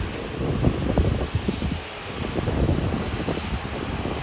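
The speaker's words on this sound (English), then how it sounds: "The wind changed." Gusty wind buffets the microphone at an airport, a steady rushing roar with irregular surges and dips, no other sounds standing out.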